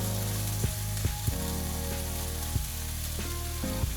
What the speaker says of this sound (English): So turn it over and fry the other side as well.